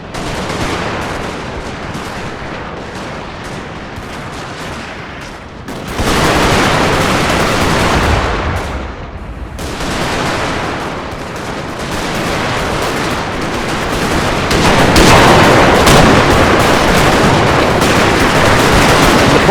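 A Total War battle recreating First Bull Run in 1861, in which musket volleys and artillery fire crackle and rumble without pause, a dense, loud barrage that swells and thickens over time.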